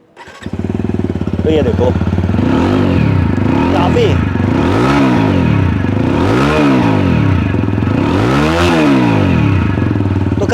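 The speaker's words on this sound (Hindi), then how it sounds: "एक बार मैं इसको ऑन कर देता हूँ और आपको एग्जॉस्ट की आवाज़ सुना देता हूँ बाइक की।" A 2023 TVS Apache RTR 160 4V motorcycle starts, then its exhaust revs repeatedly in loud, throaty bursts up close, with someone speaking briefly over it.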